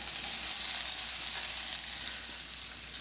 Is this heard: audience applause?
no